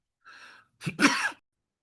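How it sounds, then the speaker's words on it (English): A single harsh cough or sneeze-like burst from one person, preceded by a short breathy intake, close and fairly loud, then silence. "Got a bad cough"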